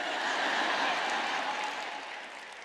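Congregation clapping during a Sunday church sermon, a dense steady wash of many hands that holds for a couple of seconds and then slowly fades.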